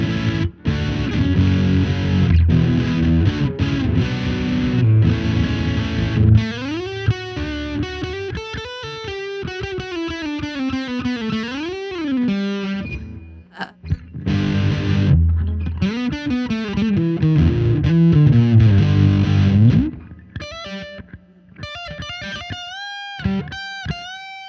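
Squier Paranormal Super Sonic 2021 electric guitar played through a Fender rat-style distortion pedal: loud, thick distorted chords and bending lead lines for over twenty seconds, then sparser stabbed notes with brief gaps near the end.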